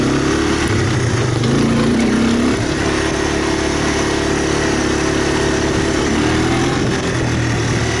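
A 1985 Honda Big Red ATC250ES three-wheeler engine idles steadily up close, with a slight unevenness in its rhythm and no talking over it.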